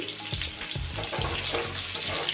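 Whole small onions, slit crosswise with a knife, fry in hot oil in a pan for an onion curry, a steady close sizzle with occasional soft stirring scrapes and no talking.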